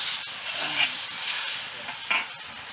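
Noodles for pad thai are stir-fried in a hot pan with a continuous hiss and sizzle and a couple of louder scraping stirs near the middle and end, and nobody speaks.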